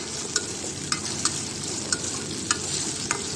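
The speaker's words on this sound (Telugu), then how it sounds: "సో ఉల్లిపాయలు టమాటాలను బాగా వేయించుకోవాలి ఒక 2 minutes" Onions and tomatoes frying in a pan for okra curry, a dense steady sizzle broken by six or so sharp clacks of a spoon stirring against the pan, close up and without talk.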